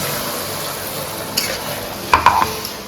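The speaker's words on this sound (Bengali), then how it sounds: "এখন এই মশলা দিয়ে দিই। মশলাটা দিয়ে দাও। আদা রসুন, আদা রসুনের রসুনের মশলা।" Ginger garlic paste frying with onions in a pan for a Bengali chicken masala curry, a steady close sizzle broken by a few sharp stirring scrapes near the end.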